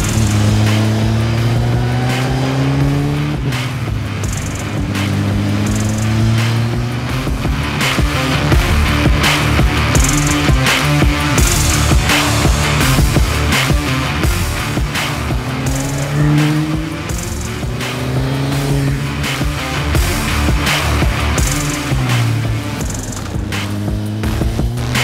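A motorcycle engine drones and rises in pitch as the rider rolls smoothly onto the throttle out of a corner, loud and steady with wind rush over the whole stretch and no talking.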